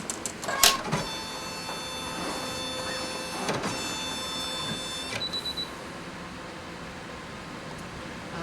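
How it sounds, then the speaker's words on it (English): The carriage of an Innovis 2800D embroidery unit moves into position, giving a whirring motor hum with several short clicks and beeps, close and fairly quiet, with no talking. "Alright, the carriage of the embroidery unit will move."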